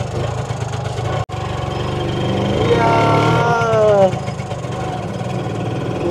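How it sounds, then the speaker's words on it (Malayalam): Original old-type engine of a vintage Lambretta auto-rickshaw, kick-started and running, a loud close chugging idle that revs up briefly and then settles, with voices talking over it. "പണ്ടത്തെ ആ ഒരു ലാംബർട്ടർ ആ ഒരു ശബ്ദം കേൾക്കുമ്പോ"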